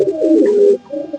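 Lambadi Andhra pigeons cooing up close, one loud throaty coo followed by a softer shorter one, with no other sounds around them.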